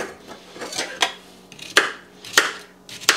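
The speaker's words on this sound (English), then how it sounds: "We're going to chop them into pieces" A knife chops peeled cucumbers into pieces on a cutting board for juicing, giving several sharp, irregular thwacks close by with short pauses between, heard alone without talk.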